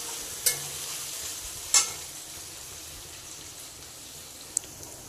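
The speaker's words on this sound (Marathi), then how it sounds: "कांदा थोडासा ब्राऊन कलरचा झाला की त्यामध्ये आपण टॉमॅटो टाकून घेऊयात" Onions fry in a pan for a dried shrimp chutney, giving a steady soft sizzle with a couple of sharp scraping stirs and one small clink, close and fairly quiet, with no voices.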